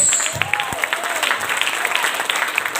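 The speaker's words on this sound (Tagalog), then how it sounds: "Palakpak para sa Diyos." Congregation in a church claps during a sermon, a scattered, uneven patter of hands with a few faint voices mixed in.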